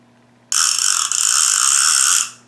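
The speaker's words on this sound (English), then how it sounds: "Loud clicker." Loud clicker ratchet on a cheap Chinese CNC-machined two-speed lever drag fishing reel, a steady fast buzzing rattle held close for about two seconds before it cuts off.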